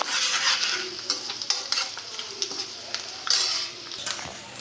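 Crushed garlic cloves sizzle in hot oil in a pan while a utensil stirs and scrapes, giving a steady close frying hiss broken by clinks and scrapes of metal on the pan, with no talking.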